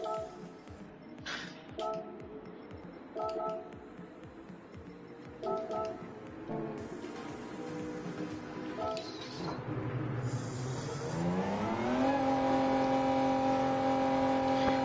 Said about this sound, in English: I'll get in the NSX and have a run at that